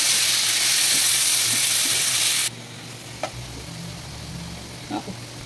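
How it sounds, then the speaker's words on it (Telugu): Tomatoes stirred into ginger-garlic paste in a hot pan: a loud sizzle at first, then a quieter simmer with a few utensil scrapes and knocks. "టమాటాలు వేసుకొని బాగా కలుపుకోవాలి."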